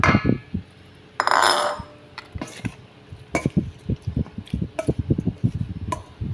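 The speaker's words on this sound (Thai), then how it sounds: "คลุกเคล้าคลุกเคล้าให้เข้ากันนะคะ" Minced pork and blanched Chinese kale being tossed in a bowl for a Thai salad, giving soft wet squishes and light clinks of a utensil against the bowl in an irregular, close rhythm.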